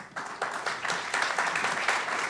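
Debate audience applauding and cheering, a brief, steady wash of clapping that sounds moderately distant and fills the whole moment.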